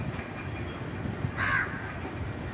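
A single harsh caw from a feeding crow rings out over a low, steady background rumble.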